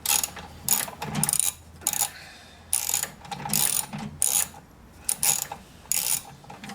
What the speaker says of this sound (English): I'm using just a 7/16 inch ratchet, and they're taking off the nuts